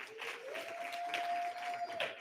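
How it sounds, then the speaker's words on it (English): Soft, fairly distant applause from an audience at a tech awards event, light patter of hands with a faint tonal hum underneath, brief and evenly sustained. "Can we give her a round of applause again as well?"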